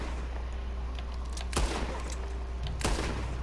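Two sharp gunshots in the Red Dead video game, spaced over a second apart and ringing out above a steady low background hum.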